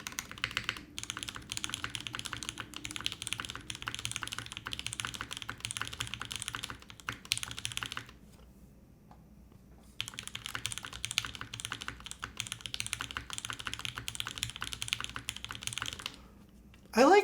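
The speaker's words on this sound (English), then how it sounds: "usually with top mounts with aluminum plate, they become very like aluminum sounding" Steady typing on an aluminum top-mount mechanical keyboard, crisp rapid keystrokes close up, pausing briefly midway before resuming, with a louder clack at the end.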